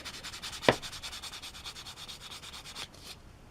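A grit stick sands a part from a Tamiya 1/12 scale Yamaha YZR M1 '09 model kit in quick, even back-and-forth strokes, a soft rhythmic scratching with one sharper scrape early on and a brief squeak near the end.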